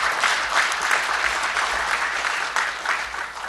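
Attendees at a suicide prevention forum launch at the National Assembly give loud, continuous applause in thanks to the organisers, a dense roomful of clapping that barely varies.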